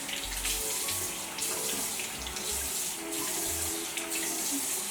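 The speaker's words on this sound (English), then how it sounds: "for my final rinse, I like to go in with cold water just to close up my pores" Cold tap water runs steadily into a bathroom sink during a face rinse, a continuous hissing splash that fills the whole stretch with small irregular spatters and no talking.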